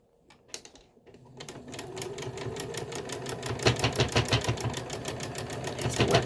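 A domestic sewing machine stitches through pleated fabric for a mask, starting with a few hesitant clicks, then settling into a fast, even, rattling run that grows louder and more laboured toward the end.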